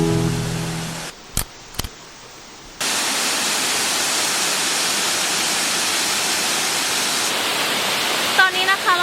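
Ko Luang waterfall in Lamphun, Thailand, with a loud, steady rushing roar of falling water that fills the scene after a few brief knocks and a short quieter stretch at the start.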